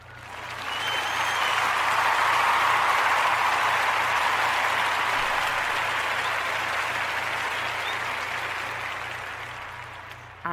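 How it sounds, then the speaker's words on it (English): A crowd applauds steadily, swelling quickly and then slowly fading over about ten seconds. "let's give them a round of applause"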